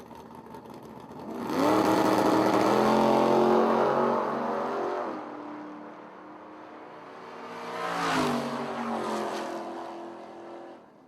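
Drag race between a Mustang and a Camaro, with loud, roaring engines surging up and holding for several seconds, easing off, then a second rising roar as the cars pass, with no talk over them.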